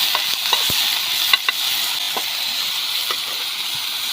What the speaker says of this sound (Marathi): कांद्याची पात आपल्याला तेलावर थोडीशी परतून घ्यायची